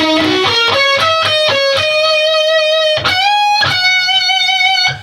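A distorted electric guitar plays sustained notes from a solo, with one bending up a whole step and wavering with vibrato, then ringing out; no voices.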